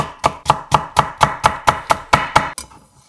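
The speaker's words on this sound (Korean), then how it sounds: "가지런히 정리해서 같은 두께로 채 썰어" Knife julienning thin carrot slices on a cutting board, ten even, crisp chops in a steady quick rhythm, close and loud, then stopping; no talking.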